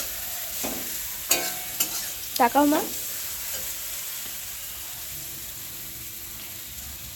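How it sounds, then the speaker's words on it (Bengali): Vegetables such as raw banana, potato and eggplant sizzle in a pan with a steady, soft frying hiss and occasional stirring scrapes, while a person speaks briefly near the start. "এই যে মা সবজিটা ভাজছে"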